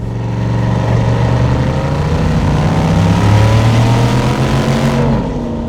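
A Chevy Silverado 1500 pickup with a naturally aspirated 6.2L V8 accelerating at full throttle, a loud, steady engine roar climbing in pitch through the gears with no talking.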